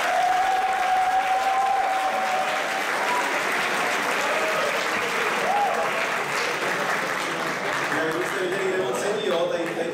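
Audience applause at a Christmas school academy show: dense, sustained clapping from a large crowd throughout, with a voice faintly audible over it.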